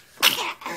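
A baby sneezes once, a short sharp burst with a quick breathy tail, close and clear during a first feeding of rice cereal from a spoon.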